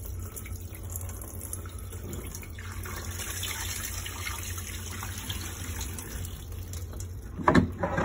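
Water pours steadily as dirty rubber floor mats are rinsed during a mat-cleaning job, a continuous close splashing rush lasting throughout, with a slightly louder surge near the end.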